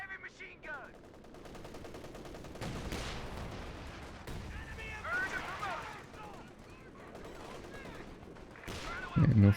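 Machine gun fire in a real-time strategy battle game: rattling bursts and booming shots pile up over a rumbling wash of combat noise, with faint voices mixed in.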